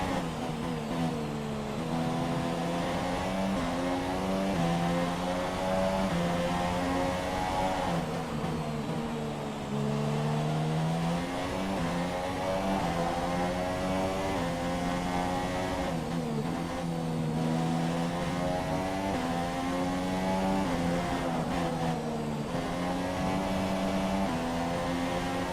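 Renault Formula 1 car engine in F1 2017 at the Russia race, a steady high-pitched whine with rising and falling revs through gear changes, continuous and fairly close, with no voices.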